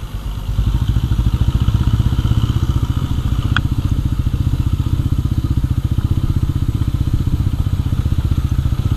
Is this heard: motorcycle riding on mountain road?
yes